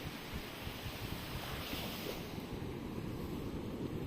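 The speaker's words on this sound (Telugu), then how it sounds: "అలలు మాత్రం చాలా విపరీతంగా వస్తున్నాయి." Strong sea waves pound a beach near Nellore, a loud, continuous rolling surf roar buffeted by wind, with no one speaking.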